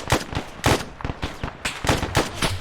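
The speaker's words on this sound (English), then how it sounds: "Shots left." Gunfire in the military shooter ArmA, rapid bursts of loud, close shots in uneven clusters of two and three, echoing sharply with no pause longer than a fraction of a second.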